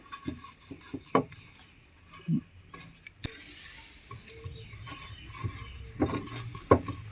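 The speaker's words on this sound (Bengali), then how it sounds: "ভালো করে আমি তেল ব্রাশ করে নিয়েছি" Oil is brushed onto a cake tin in close, irregular strokes: soft rubbing and rasping swipes mixed with light knocks and taps of the brush against the metal.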